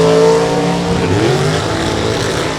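A drag race car roars down the track at a Topeka drag race, its engine loud and close as it accelerates, pitch sweeping steadily with no talk over it.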